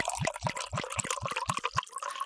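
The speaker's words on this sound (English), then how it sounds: "pour yourself something French and fizzy" Sparkling French wine is poured into a glass, giving a close, bubbly liquid sound with rapid fizzing and small splashes in an uneven, pulsing rhythm.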